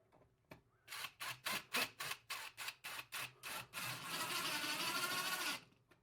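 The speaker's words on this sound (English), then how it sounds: "So now we have 4 screws installed on this first plate." A powered screwdriver drives screws into a doorbell mounting plate: about ten short whirring pulses in quick succession, then one sustained whir of several seconds, close and loud with no speech.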